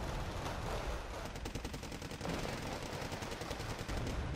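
Rapid automatic gunfire from MT-LBV armored vehicles in Wargame Red Dragon, long rattling bursts of evenly spaced shots that sound somewhat distant and carry on almost without pause.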